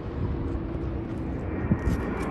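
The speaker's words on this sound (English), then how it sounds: "ANA Boeing 787 arriving from Tokyo" An ANA Boeing 787 airliner arriving from Tokyo at Sydney Airport, heard as a steady, low, rumbling engine roar at moderate distance with no voices.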